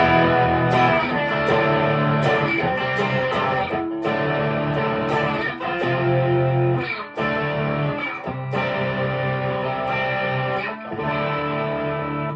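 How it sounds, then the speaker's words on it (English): Distorted electric guitar, a Telecaster-style guitar through a high-gain boost pedal with no reverb or delay, plays sustained chords and riffs with a saturated crunch, loud and continuous with brief pauses between phrases. "It's actually a boost pedal, but it's like a higher gain one."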